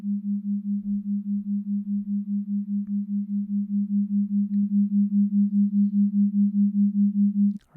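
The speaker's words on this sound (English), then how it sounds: "this 5 hertz difference between left and right will be perceived as the binaural beat, which relates to a theta wave" Two sine tones set 5 Hz apart in a theta-range binaural beat produce a steady low hum that pulses about five times per second, loud and continuous, ending with a short click.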